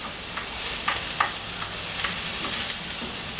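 Vegetables sizzle steadily in a hot frying pan while a utensil stirs them, giving a constant hiss with scattered scraping clicks, close and alone.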